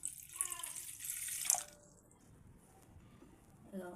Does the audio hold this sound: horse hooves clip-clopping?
no